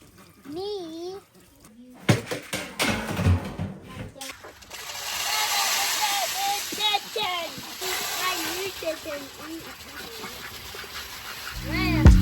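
A voice comes first, then running water and several ducks quacking repeatedly nearby over a steady watery rush, at a country home.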